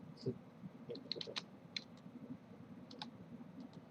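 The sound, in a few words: computer mouse clicks in Blender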